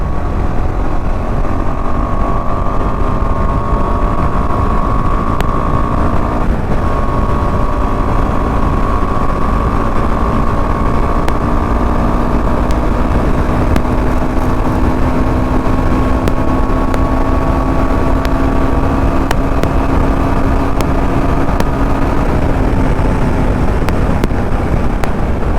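A KTM 390 Adventure single-cylinder motorcycle engine cruises in fifth gear, a loud, steady drone with a slowly rising pitch mixed with heavy wind rush. It continues unbroken throughout, with no talk.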